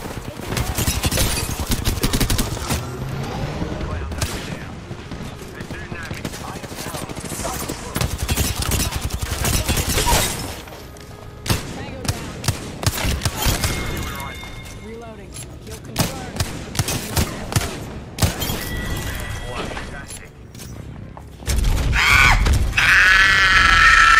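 Rapid video game gunfire in an online shooter match, heard as dense bursts of loud automatic shots with scattered single cracks and impacts, broken by short lulls, with game voice lines mixed in.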